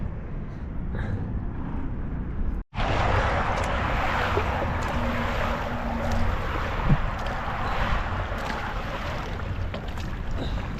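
A small boat pushed along the sea by foot-worked oar, giving a steady broadband wash of water and wind with faint creaks and splashes, one brief dropout early on.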